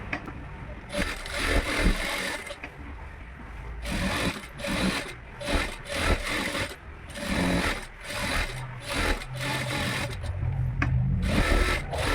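A domestic sewing machine stitches a blouse sleeve lining onto its main piece, running in repeated short bursts of whirring with brief pauses between them, close and fairly loud.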